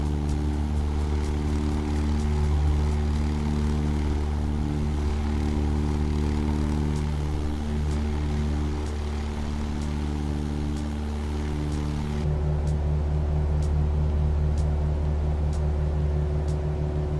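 A Cessna 172 propeller engine droning steadily in Microsoft Flight Simulator over the Australian Alps, a loud continuous buzzing hum with stable harmonic tones and no talk.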